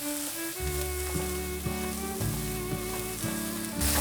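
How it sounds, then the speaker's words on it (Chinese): Shiitake mushrooms and carrots stir-fried in a wok for a vegan dish, a soft sizzle running under a sustained melodic background tune with repeated notes, no voices. "香菇炒香后，放入红萝卜"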